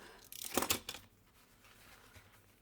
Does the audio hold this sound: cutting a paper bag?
yes